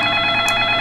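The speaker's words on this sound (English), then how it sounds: "let's just wait for the answering machine" A telephone answering machine in the video game Façade plays a short, steady electronic tone with a brief higher blip partway through. No one speaks.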